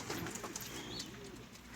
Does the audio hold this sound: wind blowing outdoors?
no